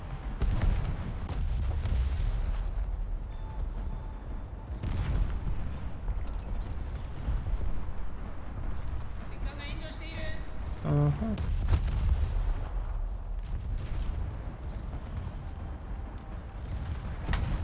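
A destroyer's naval guns fire at a ship in War Thunder, a sustained barrage of booming shots and rumbling blasts under a continuous roar of battle.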